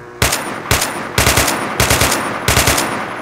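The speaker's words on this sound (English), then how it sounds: "let me just show you the new sound for the AK" AK rifle gunfire in the Unity FPS game Red Alliance, with loud, close bursts of rapid automatic shots. Several short volleys come in quick succession, with brief pauses between bursts and no talking.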